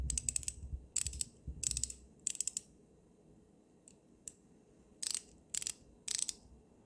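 Japanese Koken-style ratchet clicking in crisp close bursts, several quick runs of fine clicks separated by short pauses, quiet and otherwise silent.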